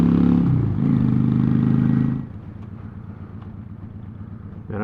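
Carbureted bobber motorcycle engine revving hard for about two seconds, then dropping to a lumpy, rhythmic idle that pulses on steadily, close by with no talking.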